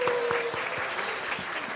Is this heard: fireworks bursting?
no